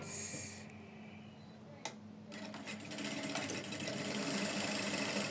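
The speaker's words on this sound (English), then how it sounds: "So let's sew it." A sewing machine stitching a zipper fly runs with a steady mechanical whir that starts after a brief pause and keeps going, close and moderately loud.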